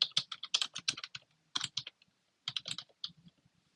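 Keys clatter on a computer keyboard in quick, close bursts of typing, separated by brief silent pauses, fairly quiet and with no voices.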